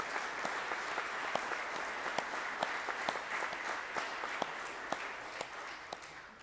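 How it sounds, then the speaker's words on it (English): Parents at a senior recognition night applaud the graduating seniors, a steady wash of many hands clapping in a room, with a few sharper individual claps standing out throughout. "parents, if you would, let's applaud these kids"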